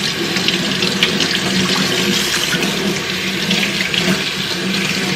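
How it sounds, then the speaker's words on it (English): Squid rinsed under a running kitchen tap, with a steady, close rush of water splashing into the sink for several seconds and no pause in the flow. "Rinse, rinse, rinse."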